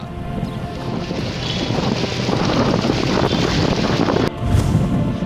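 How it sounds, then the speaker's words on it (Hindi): Storm wind during an April thunderstorm in India roars in a loud, continuous rush with heavy low buffeting, briefly dipping near the end before surging again; no one speaks. "आंधी ने डराया,"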